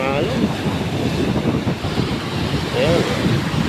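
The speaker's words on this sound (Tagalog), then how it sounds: "Lalaki ng alon." Large waves rolling onto a sandy resort beach in rough surf make a steady, loud broadband roar throughout, with wind buffeting the microphone.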